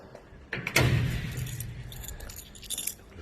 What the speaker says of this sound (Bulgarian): Ключове имаме.